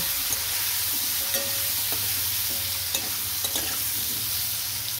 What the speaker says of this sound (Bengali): এইটাকে একটু ভেজে নেব।